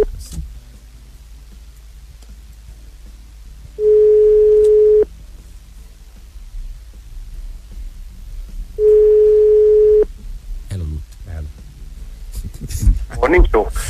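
Two long electronic ring tones sound a few seconds apart over a quiet line hum, followed by clicks and a voice starting near the end.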